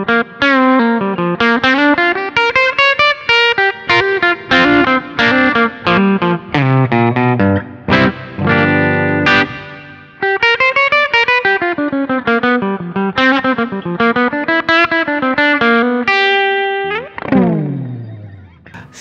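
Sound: electric guitar with full humbucker pickup, Bacchus G-Studio

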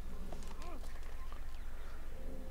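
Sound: horse hooves clip-clopping in the video game Assassin's Creed

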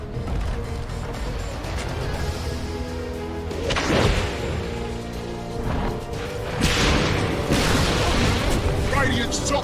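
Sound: top tower destroyed in Dota 2 video game

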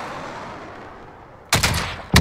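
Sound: gunfire in a shooter video game

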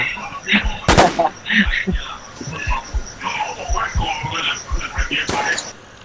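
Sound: gunshots in WarZ video game

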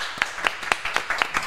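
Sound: applause for Diego

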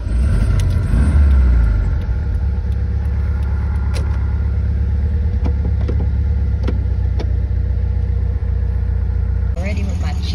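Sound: 1972 VW Super Bug car driving

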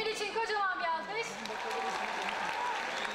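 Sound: applause for Emin

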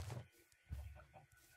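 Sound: chicken clucking in a video game

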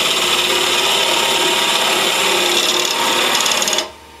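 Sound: mini-lathe cutting wood with a bevel tool

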